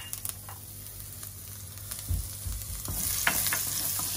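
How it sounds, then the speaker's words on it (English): Ginger and garlic hit a hot pan with olive oil, giving a steady sizzle that swells louder toward the end, with soft scraping and stirring knocks near the start and no talking. "So, nice hot pan, a little bit of olive oil in there. First goes in our ginger and our garlic."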